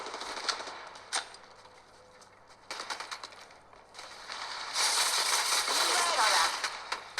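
Gunfire in the mobile shooter Apex Legends Mobile: bursts of sharp shots and rapid automatic fire come and go, with a dense loud volley near the end over game noise and voice callouts.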